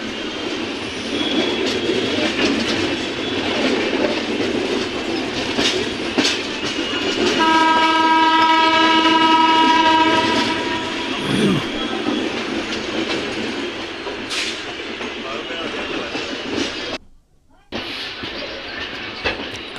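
Rayalaseema Superfast train pulling out of Secunderabad in the early morning, its horn sounding a long steady blast mid-clip over the continuous rumble and clatter of the rolling coaches.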